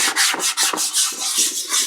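A handheld Powkiddy A12 console shell is lightly sanded with sandpaper to roughen it before painting. The close scratchy rasp comes in a quick, regular run of short back-and-forth strokes, with no voices.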